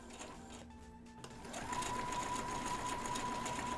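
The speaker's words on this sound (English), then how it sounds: "So I'm going to back stitch," Sewing machine back stitching along a waistband seam, a steady mechanical whir that pauses briefly, then resumes louder and continuous for several seconds, close and alone.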